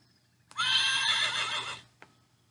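A single clear horse neigh, loud and close, lasts just over a second with a shrill, shaking tone and is set against a faint low hum. A short click follows it, and there is no talk.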